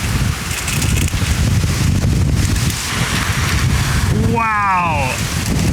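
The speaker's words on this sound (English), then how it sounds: "It's really coming down here, but I seem to be just out of range." Strong wind gusts and heavy rain lash the outside of a backyard shed, a loud continuous roar of buffeting and pattering that never lets up, with a person's voice exclaiming over it near the end.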